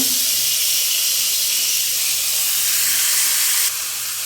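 Loud, steady sizzling of chicken pieces frying in a hot pan with a little oil, a bright continuous hiss that holds evenly and drops slightly at the end.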